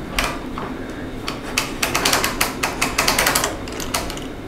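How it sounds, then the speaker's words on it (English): A clock mainspring being wound tight on a mainspring winder, a quick run of sharp ratcheting clicks, about a dozen in steady rhythm, loud and close with a soft mechanical rustle before. "wound up tight. The clamp is put on it."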